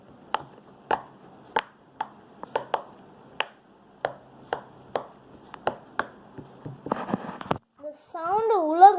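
Sharp popping clicks from a pop-it fidget toy sound one at a time in an uneven rhythm, close and crisp, followed by a brief burst of quicker pops.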